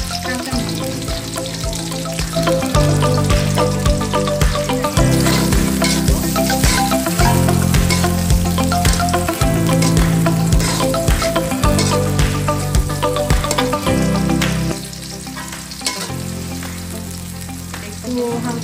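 Four green chillies fry lightly in oil in a pan while a goat kidney kebab is being cooked. A steady, loud sizzle runs throughout with stirring noises and a rhythmic low thumping underneath.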